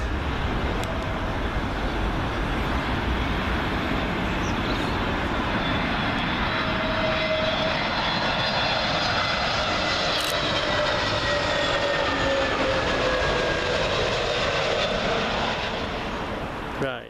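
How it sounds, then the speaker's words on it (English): An Iberia Airbus A320neo arriving from Madrid lands on runway 27L at Heathrow, a loud, sustained engine roar with a whistling whine sweeping past overhead, a voice faintly present beneath it. "another A320neo, this one for Iberian, coming in from Madrid."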